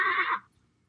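A single short horse neigh, bright and loud, cutting off quickly into quiet.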